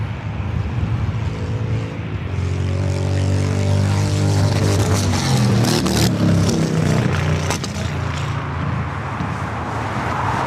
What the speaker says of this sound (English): With this Frontier A321 Neo now heading up here for north side at takeoff.